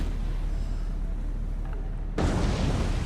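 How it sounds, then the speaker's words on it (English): Torpedo strike explosion on a warship in the naval video game War on the Sea: a steady, heavy rumble breaks into a sudden louder, broadband boom that keeps roaring to the end. "Another torpedo strike."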